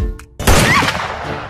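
A single loud gunshot fired at a target cracks out close by after a brief hush, its blast ringing and fading over about a second.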